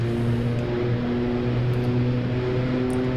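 OV-10 Bronco turboprop engines in DCS World flight simulation, a loud steady drone with stable harmonic tones and a slight rise in throttle, continuous and alone throughout.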